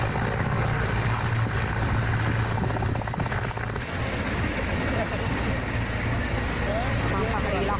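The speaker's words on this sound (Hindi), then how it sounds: "राजौरी इलाके में एयरफोर्स के हेलीकॉप्टर ने इस शख्स को एयरलिफ्ट किया" Air Force helicopter airlifting a stranded man in flood-hit Rajouri, its rotor and engine a loud, steady, continuous roar throughout.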